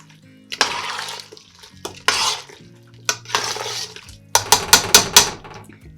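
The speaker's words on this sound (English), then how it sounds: "So we're just going to stir this real quick," Chicken bone broth with bay leaves being stirred in a pot, several bursts of swishing liquid and scraping against the pot, ending in a quick run of sharp clinks and taps, close and alone.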